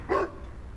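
A dog gives one short, sharp bark, close and clear, followed by quiet room tone.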